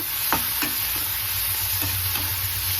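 Tomatoes frying in oil for a Mandya-style mutton sambar, giving a steady sizzling hiss with several soft spoon stirs and scrapes against the pan, close up and without speech.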